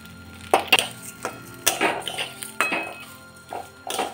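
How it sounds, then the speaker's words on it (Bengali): Drained rice is stirred in hot ghee in a metal pan for basanti pulao, giving irregular scraping clinks and knocks of a utensil against the pan, close up with no talking. "একটু হালকা হাতে ঘিয়ের সঙ্গে চালগুলোকে নাড়াচাড়া করে নিচ্ছি"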